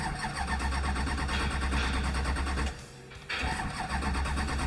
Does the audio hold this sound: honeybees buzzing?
no